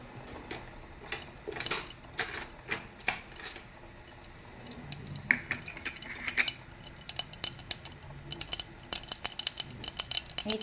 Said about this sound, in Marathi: तर मोहरी छान फुटते आहे